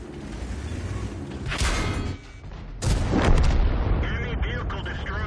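Tank cannon fire in World of Tanks from an M46 Patton KR, with a heavy booming shot near the start and a second loud blast around the middle, followed by rumbling battle noise and a voice speaking.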